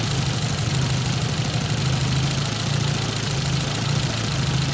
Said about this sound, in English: Definitely intermittent stutter there.